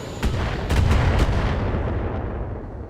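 Autocannon and missile launcher fire in the mech combat game BattleTech, with a rumbling boom and a couple of sharp cracks in quick succession that settle into a long, heavy decay.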